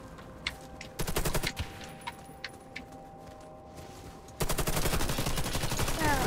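Gold gun firing in the first-person shooter Warface on PC: a short burst of rapid automatic shots, then a steadier stretch of sustained loud fire at the end over game ambience.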